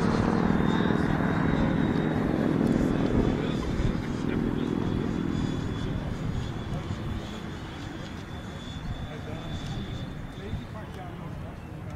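A Freewing MiG-29 RC model jet comes in to land, its electric ducted-fan whine steady at first and then fading gradually as it descends, with wind and outdoor ambience and a person speaking.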